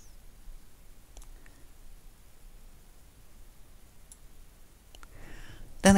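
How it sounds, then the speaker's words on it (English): Sparse, sharp computer mouse clicks, three or so spaced seconds apart, close but light over a quiet hiss, while working on a redwork embroidery design on a computer, with a louder rustle at the end. "Left click, right click, left click."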